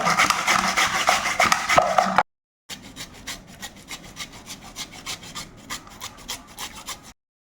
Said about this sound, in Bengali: এখন এই কুমড়োগুলো এইভাবে ঘষে ঘষে নেব